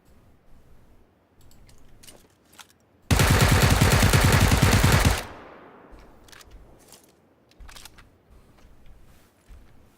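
Automatic gunfire in the battle-royale shooter PUBG: a loud, dense burst of rapid shots lasting about two seconds, then a decaying tail, with quieter scattered sounds before and after.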